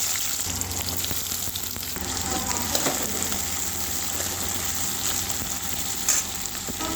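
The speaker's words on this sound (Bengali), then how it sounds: "ওই তেলে এবার পেঁয়াজগুলো দিয়ে দেবো।" Onions dropped into hot oil left from frying paneer hiss and sizzle in a steady, dense crackle that fills the whole stretch, close and fairly loud, with no voices.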